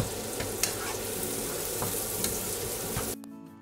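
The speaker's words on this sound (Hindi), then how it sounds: "ऑनियन अच्छे से फ्राई हो गए उसके बाद मैं टमाटर को मैंने जो चॉप करके रखे थे वो ऐड कर दूँगी फिर नॉर्मली जिस तरह से हम कुक करते हैं अच्छे से उसको मैं कुक कर लूँगी फ्राई कर लूँगी" Chopped tomatoes and onions with salt sizzle steadily in a hot pan for a bhindi masala base, with scraping stir strokes breaking through, close and continuous, before the frying noise drops abruptly near the end.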